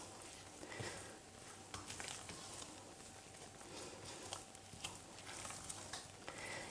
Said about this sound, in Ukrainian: Тепер знов все добре перемішую